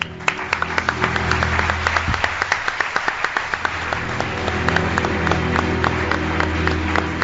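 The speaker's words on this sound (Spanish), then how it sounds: "Un aplauso para él." A studio audience applauds a guest on a live radio broadcast from Teruel, a loud sustained burst of many hands with sharp individual claps standing out, continuing steadily to the end.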